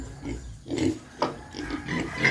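Native pigs grunt in several short, close, low bursts, some separated by brief pauses, with quiet farmyard ambience around them.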